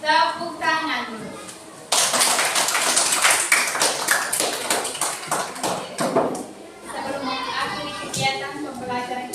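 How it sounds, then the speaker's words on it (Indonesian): Children in a classroom clapping together in a rhythmic burst, many small hands patting quickly and unevenly, with children's voices and chatter before and after. "Tepuk tangan dulu."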